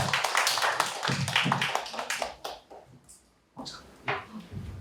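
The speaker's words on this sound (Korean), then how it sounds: "박수 부탁드리겠습니다" An audience claps at a Korean lecture on programming with AI: dense, fairly loud applause for about two and a half seconds, then it thins out into scattered quieter claps and shuffling.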